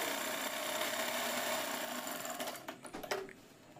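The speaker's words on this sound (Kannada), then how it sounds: "ಈಗ ಇದ್ರ ಮೇಲೆ ಇನ್ನೊಂದು ಹೊಲಿಗೆ ಹಾಕ್ಕೊಳ್ಳೋಣ" A sewing machine runs steadily, then slows into a few separate stitches as it sews a kids' umbrella frock, joining the top to the skirt. The sound is close and moderately loud.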